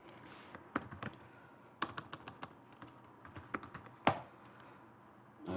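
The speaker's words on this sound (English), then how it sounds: "Why typing the command trace route?" Keystrokes on a computer keyboard while a command is entered in a Linux terminal, a run of irregular close clicks with a few louder taps and pauses between bursts.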